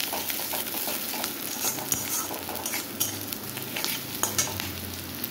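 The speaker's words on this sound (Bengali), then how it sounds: "তারপরে আমি এখানে পেঁয়াজ ভেজে নিচ্ছি।" Chopped onions fry in oil in a pan, a steady soft sizzle with occasional scrapes and taps of a spatula stirring, close and fairly quiet.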